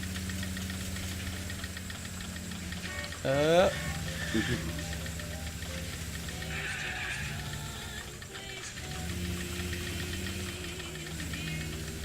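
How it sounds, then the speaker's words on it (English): A damaged car in L.A. Noire runs with a steady, rough mechanical knocking and rattling engine drone throughout, with a brief louder clatter partway, under people talking. "I just love the horrible sound this car's making."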